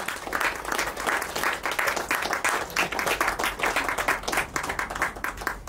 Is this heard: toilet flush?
no